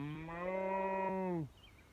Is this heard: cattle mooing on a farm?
yes